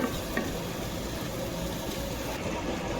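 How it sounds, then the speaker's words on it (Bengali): Vegetables with salt and spices are stir-fried in a hot pan, giving a steady, close sizzle with scraping and stirring noises that continue without pause. "এখন এগুলো আমি কষাইতে দিব"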